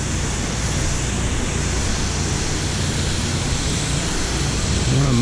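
Adjustable-pressure washer gun spraying a grimy concrete surface, producing a steady, loud broadband hiss and rush of water that continues unbroken throughout, swelling slightly at the end.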